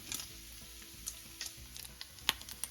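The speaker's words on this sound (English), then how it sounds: "We are going to cook the bacon until it's really nice and crispy and a lot of the fat has rendered out." Bacon frying in a pan until crispy with its fat rendering out, giving a quiet, steady sizzle broken by scattered small pops and crackles, plus a few brief scraping stir sounds, with no talking.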